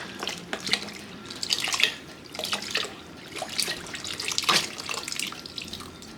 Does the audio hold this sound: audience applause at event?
no